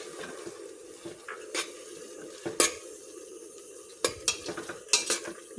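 Ground tomato puree goes into onions frying in oil, giving a low, soft sizzle broken by sharp spoon clinks and scrapes against the pan, close by and sporadic.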